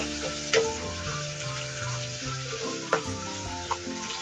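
Curry leaves spit and crackle in hot oil in a pan for fish curry, a constant close sizzle broken by a few sharp pops, with no one talking.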